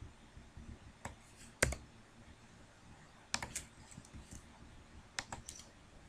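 Typing on a computer keyboard comes in three short, faint bursts of quick clicks separated by pauses of about two seconds, with a soft room hiss in between.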